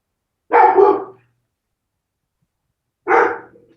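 A dog gives two separate loud, close barks a couple of seconds apart, each a short gruff burst followed by silence.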